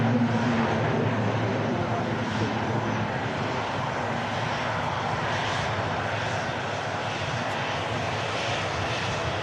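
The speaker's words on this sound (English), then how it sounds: "Mega shot of that ATR taking off" ATR turboprop airliner taking off from Manchester Airport for the Isle of Man, a steady loud propeller and engine roar sustained throughout, close and continuous.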